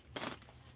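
Coins jingle together in one short, bright metallic burst as they are handled, fairly faint and close, with no talk.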